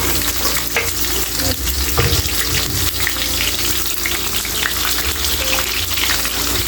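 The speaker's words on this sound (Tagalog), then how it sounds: "Lalagyan natin guys ay ang ating chopped onions." Chopped onions frying in a pan, a loud dense continuous sizzle close up, with scattered scrapes and knocks of stirring throughout and no talking.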